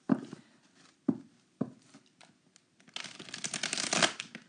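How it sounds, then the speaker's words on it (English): Tarot cards being shuffled by hand: a few sharp riffle bursts spaced about half a second apart, then a denser, louder stretch of rapid card flutter toward the end, close and with no talk. "All right, let me shuffle them."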